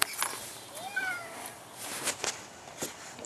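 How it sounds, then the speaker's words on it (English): An indoor cat gives a short rising meow, then a few brief knocks and rustles follow, faint and close, with some quiet human voice in the background. "She must meow all the time."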